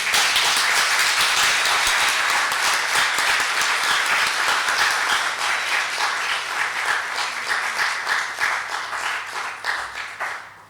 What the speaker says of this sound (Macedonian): ќе ве замолам уште еднаш да му посакаме добре дојде на господинот Ахмет Умит со еден аплауз